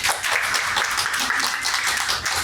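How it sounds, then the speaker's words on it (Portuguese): Group clapping in a hall during an Outubro Rosa breast cancer awareness event, a steady dense patter of hands lasting the whole moment, fairly close and even in level. "palmas para o Alan, palmas para o Alan"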